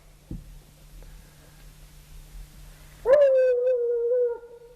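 Coonhound baying after picking up raccoon scent outdoors: after a faint thump and quiet background, one long, loud, drawn-out howl carries for over a second, sounding fairly near.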